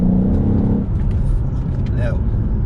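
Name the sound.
Mercedes E63 AMG engine revving, loud exhaust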